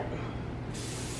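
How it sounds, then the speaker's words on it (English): Cooking spray hisses steadily from a can into a ceramic baking dish, a close, continuous spray that brightens partway through. "So we're going to spray it."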